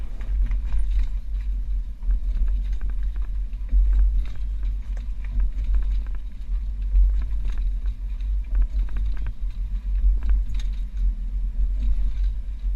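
A 2022 Hyundai carrying a Yakima RidgeBack five-bike rack rolls over alternating speed bumps, making a continuous low rumble with knocks and clunks as the car twists over each bump.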